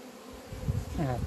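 A soft honeybee buzz drones close by at a beehive, rising in volume toward the end with a wavering hum.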